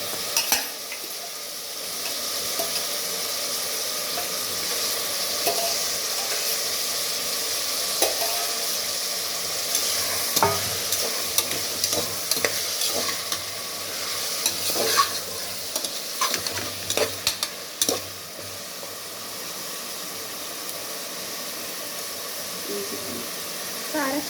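Mutton is stir-fried with tomato and onion in a pan, giving a continuous sizzle with repeated scraping strokes of a spatula, close up, with occasional talk over it.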